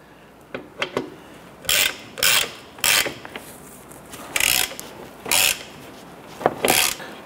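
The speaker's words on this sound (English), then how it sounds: "I'm going to go ahead and snug down our bolt here." A ratchet snugging a control arm bushing bolt on a 2006-2013 Chevrolet Impala front suspension, heard as bursts of rapid clicking strokes, about eight pulls with short pauses between, close and clear.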